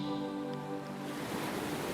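Ocean waves wash onto a sandy shore in a summer hypnotic meditation, a soft steady surf hiss mixed with a low calm musical drone, no voices present.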